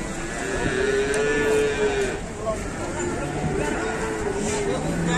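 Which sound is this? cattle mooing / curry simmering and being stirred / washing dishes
cattle mooing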